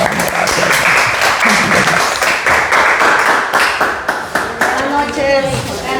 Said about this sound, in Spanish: un aplauso nuevamente a Jack